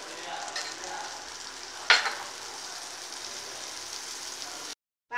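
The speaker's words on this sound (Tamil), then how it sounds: "பாருங்க, பட்டரு சூடாகிக்கிட்டு இருக்கு." Butter heating on a hot dosa griddle for an omelette gives a steady, gentle sizzle with one sharper crackle partway through, close and moderately loud, with no talking, then a brief drop to silence near the end.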